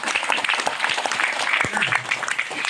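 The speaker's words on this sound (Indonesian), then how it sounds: "Tepuk tangan." An audience at a local history talk in Tegal bursts into dense, loud, sustained applause, with many hands clapping close together and voices murmuring faintly within it.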